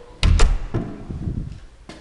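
An entry door and its lock are worked: a few sharp thunks and clacks, fairly close, followed by softer rattling of the hardware and a final knock.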